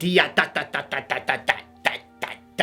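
About ten short, detached tuba notes in a choppy, pecking staccato rhythm, each clipped off quickly with brief gaps between.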